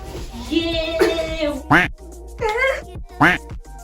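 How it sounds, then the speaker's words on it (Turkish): Several short, nasal duck quacks play in quick succession, close and clear, mixed in with other sounds. "Bunu ördek sesiyle kapatayım mı?"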